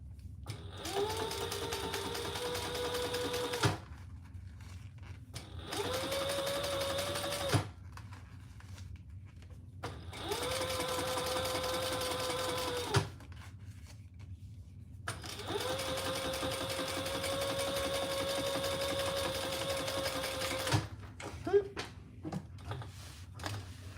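A home sewing machine stitching a seam on a triple zipper project runs in four steady bursts of whirring motor hum separated by quiet pauses, with small clicks between runs.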